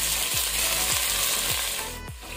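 Onions sizzle steadily in a pan over medium-high flame for ghee rice, a loud constant hiss broken by a few regular scraping stirs.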